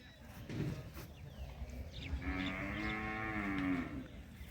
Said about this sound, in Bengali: কত সুন্দর সুন্দর গরু